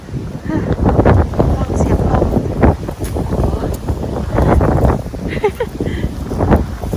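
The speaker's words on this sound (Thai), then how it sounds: "ฟังเสียงลม ลมแรงมาก" Strong wind buffets the microphone outdoors in icy winter weather, a loud continuous roar with gusts throughout, while someone talks over it.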